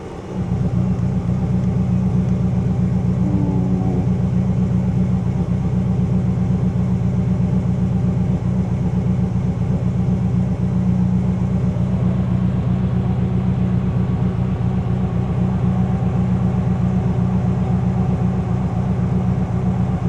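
A stroked 2.1 litre race car engine with a Manly billet crank, running loud and close with a steady heavy rumble that holds fairly even without sharp revs.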